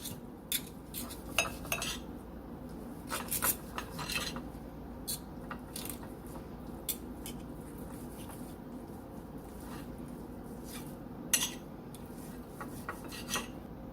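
Knife and fork scraping and clinking against a platter while a tender slow-cooked honey apple pork loin is cut, with scattered sharp taps and scrapes over a steady low kitchen background.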